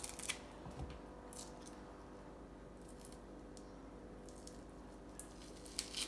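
Kitchen knife chops an onion into medium dice on a cutting board, producing faint, scattered crisp taps and slices at an irregular pace in a quiet room.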